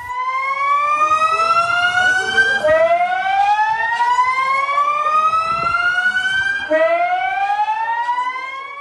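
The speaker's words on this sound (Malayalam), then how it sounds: "സ്കൂളുകളിൽ സ്ഥാപിച്ച സൈറനുകൾ 3 തവണ മുഴങ്ങി." Kerala's Kavacham disaster warning siren, tested at a school, wails loudly in repeated rising sweeps, each climbing steadily before dropping back and starting again, three cycles in a row.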